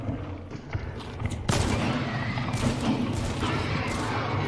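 Rapid fan-fired shots from a Caldwell revolver in Hunt: Showdown, a dense, loud burst of overlapping gunfire with a sharp onset partway through, then a sustained rumble and echo.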